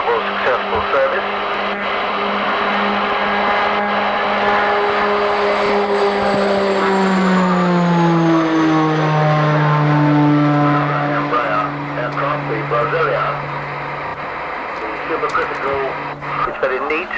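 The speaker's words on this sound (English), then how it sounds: "This is a light regional airliner and corporate transport." An Italian light regional turboprop airliner passes at an air show, its propeller drone sweeping downward in pitch as it flies by, loud and steady beneath a commentator's voice.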